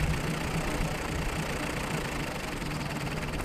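A tractor engine runs steadily under load while ploughing furrows, a continuous, fairly loud chugging drone with no talk over it.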